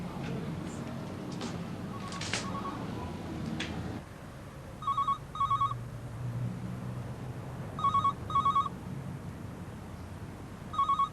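Telephone ringing in the classic double-burst British pattern, three pairs of bright electronic trills repeated at regular intervals in a quiet room, following a few seconds of indistinct movement sounds.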